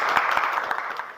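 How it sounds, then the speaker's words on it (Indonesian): A brief burst of applause from a class of schoolchildren, a steady patter of hands clapping for a moment before fading. "Tepuk tangan dulu buat Endra."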